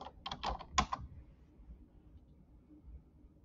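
A short, quick burst of keystrokes on a computer keyboard, five or six close taps within the first second, followed by a near-silent room.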